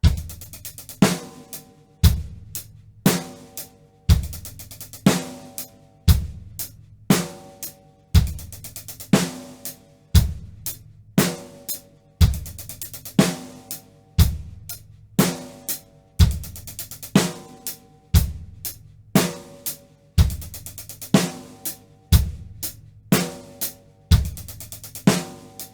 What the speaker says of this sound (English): I'm going to start the roll on the hi-hat and lead to the snare at the end of the roll